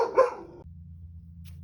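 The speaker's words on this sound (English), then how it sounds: "my dog saw a squirrel" A dog lets out a single sharp bark at a squirrel, then a low steady hum continues for the rest of the moment.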